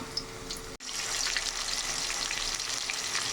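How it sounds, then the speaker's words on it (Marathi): Crushed garlic and cumin fry with onion in hot oil, a dense continuous sizzle that cuts out for an instant near the start and then carries on loud and close. "लसूण जिरं ठेचलेलं तेला कांद्यामध्ये टाकलेलं आहे ते पण फ्राय होऊ द्यायचं"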